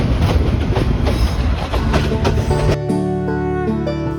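A local train pulls away from Jamalpur Town Junction in Bangladesh, heard from on board as loud, rapid rattling wheel clatter that gives way to a steady, droning tonal hum.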